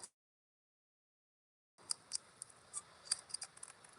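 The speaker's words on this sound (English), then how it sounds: "we're going to trim off the excess on the sides and across the" Scissors snip excess fabric off the sides of a finished pocket on a Tula Pink A Place for Everything 2.0 sewing bag, a run of crisp, close cuts after a short silence.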